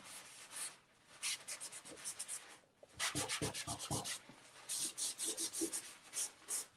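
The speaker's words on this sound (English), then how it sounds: "I might come back in with my paper towel and explore what I can do with lightening some values in the sky just with wiping away" A paper towel wipes paint across watercolor paper, making soft, close, scratchy rubbing strokes that come in short rhythmic bursts separated by brief pauses.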